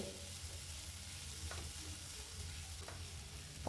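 Vegetables sizzle and fry in a pan as they are stirred, a low steady hiss with a couple of brief utensil scrapes, close but fairly quiet.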